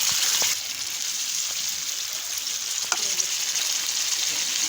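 Cooked mutton masala sizzling steadily in a pan just after watery ground-masala paste is poured in, a continuous loud broadband fry with occasional soft stirring clinks, no talking.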